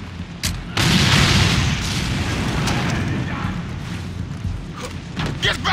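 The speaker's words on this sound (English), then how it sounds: "Friendly bomb shell is on the way." Bomb shell explosions in Far Cry 3 multiplayer on the Shipwreck map: a heavy booming blast erupts and rumbles on for several seconds, followed by scattered smaller pops and bursts.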